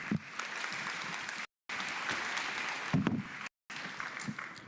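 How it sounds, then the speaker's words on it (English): Conference audience applauding panelists at a science week event, a continuous wash of clapping from a sizable crowd, briefly cut by two short silent gaps. "Another round of applause to our panelists, please."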